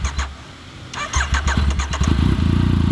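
A Yamaha MT-09 900cc triple motorcycle engine cranks and fires, sputtering through a few uneven revs before settling into a loud, steady close-up idle, with no talking over it.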